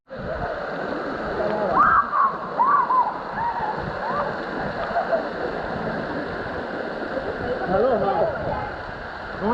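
A waterfall on Maui roars as a constant wash of rushing water, with people talking and calling out over it.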